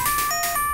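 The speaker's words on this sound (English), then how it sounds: "don't worry about the doorbell ringing" Two-tone electronic doorbell chime in the point-and-click game Dark Seed, a clean ding-dong pattern repeated with short gaps, clear and alone.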